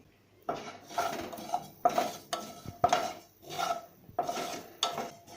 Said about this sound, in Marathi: जिरा आणि तिल आहे ना ते कोरडेच भाजायचे म्हणजे हलकेसे भाजायचे